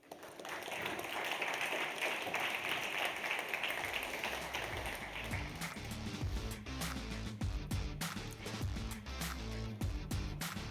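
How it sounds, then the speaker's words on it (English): Applause rises for the winner at an energy tech challenge finals, a sustained wash of clapping from a sizeable audience, joined partway through by heavy booming thumps, likely music, that continue to the end. "please give a round of applause for Tempo"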